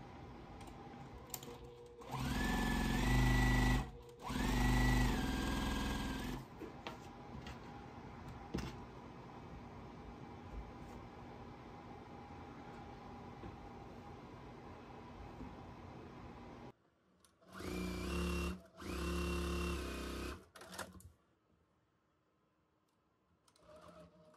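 A sewing machine stitches quilt fabric along a drawn line for a four-patch basket block, running in two bursts early on with a steady hum between them, then two more short runs near the end, close and loud.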